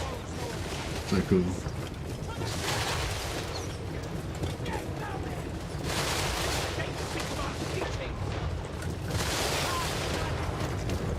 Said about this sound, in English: I just love watching these dudes charge, just unloading pistol shots